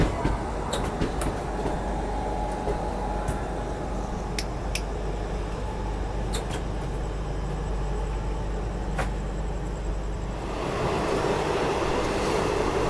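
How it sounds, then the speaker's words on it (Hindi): The 22186 Pune–Ahmedabad Ahimsa Express leaves Pune at night, its wheels rolling continuously and loudly over the track, with irregular clicks and clacks from the rail joints and a brighter rise in noise near the end. "यहाँ पुणे शहर से निकलते हुए अहिंसा एक्सप्रेस, क्या ट्रैक साउंड है गजब का"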